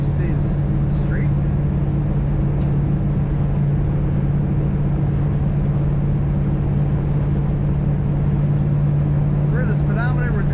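A 1947 Ford Super Deluxe Convertible cruising at about 50 mph, its steady engine drone and road noise running continuously up close, with someone talking over it.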